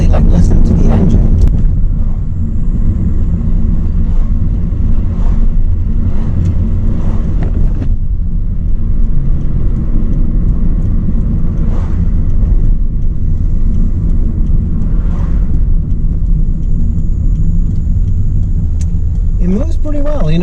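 A 1992 Lexus ES300 with a Toyota V6 and five-speed manual accelerates, heard from inside the quiet cabin as a steady low engine and road rumble throughout.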